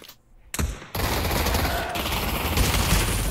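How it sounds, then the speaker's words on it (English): Gunfire in the VR shooter game Pavlov, a short gap, then a sustained loud stream of rapid automatic shots continuing to the end. "Shoot your gun to prove you're not Jester."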